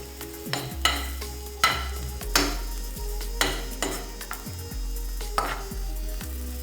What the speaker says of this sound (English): I'm going to go ahead now and just lightly move this around, stir this around a bit.